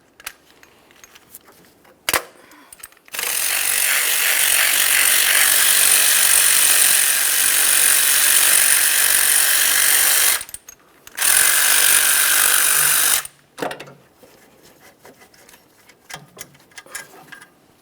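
Power tool running on the upper alternator mounting bolts of a 2012-2015 Honda Civic 1.8L I4, in two sustained loud bursts of about seven and two seconds, with short clicks and quiet pauses around them.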